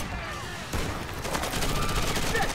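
Rapid automatic gunfire in a Rainbow 6 Patriots video game trailer, a loud dense rattle of shots that builds after a short pause, set against a noisy scene with some shouting.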